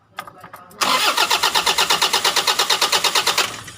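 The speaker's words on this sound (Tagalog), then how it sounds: "Yan, andarin natin, ayaw pa rin." A car engine cranks repeatedly with an even, rapid pulsing starter rhythm after a few brief clicks, loud and close, never catching, with hard-start trouble linked to a crankshaft position sensor.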